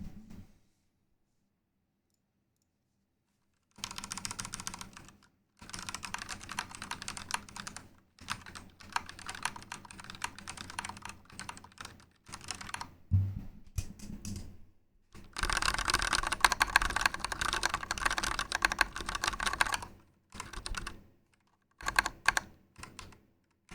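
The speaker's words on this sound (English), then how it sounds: "Here's what my keyboard that I use for typing and stuff sounds like" Typing on a computer keyboard, a bit noisy and clacky, in bursts of rapid keystrokes separated by short pauses, close and clear with no talking.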